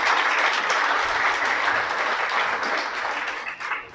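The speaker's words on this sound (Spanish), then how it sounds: "Dale un aplauso al Creador por esta revelación." A congregation at a Spanish-language gospel teaching claps together in sustained applause, loud and continuous, thinning slightly toward the end.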